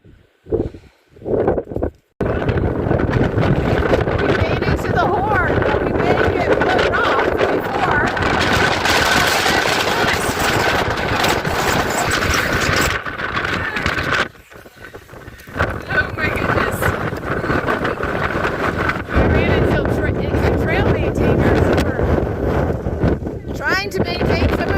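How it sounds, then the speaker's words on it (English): Strong, gusty wind buffets the microphone on an exposed mountain ridge along the Appalachian Trail in New Hampshire, a constant loud roar broken by a brief lull, with people talking under it. "Still very windy."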